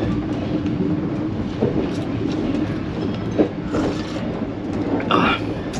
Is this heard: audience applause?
no